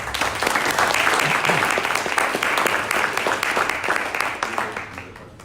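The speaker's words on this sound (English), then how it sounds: "So without further ado, round of applause for David." An audience at a morning startup community event gives a loud, sustained round of applause welcoming a speaker, dense clapping that holds steady and then thins and fades near the end.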